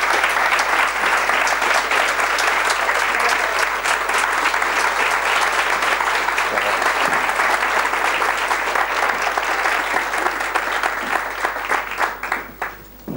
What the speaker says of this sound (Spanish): un aplauso a nuestro